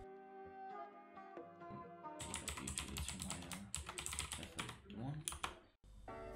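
Computer keyboard keys tapped in a quick burst of clicks while a project is saved, close and crisp, with someone speaking over the typing.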